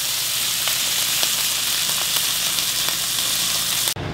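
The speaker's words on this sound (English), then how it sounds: "Let's cook this steak." Steak sizzling steadily in a hot pan, a dense continuous hiss with small pops scattered throughout, close and loud, then cutting off abruptly at the end.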